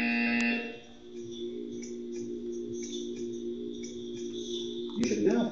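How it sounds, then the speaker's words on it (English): Buzzer in the video game Portal 2, a steady electronic drone holding one pitch for about four seconds, then breaking into a short burst of noise at the end. "You will hear a buzzer."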